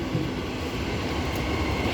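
An EMU electric passenger train pulls away from a platform at Currambine station with a steady, loud rumble of wheels and motors that runs unbroken throughout, with no talking.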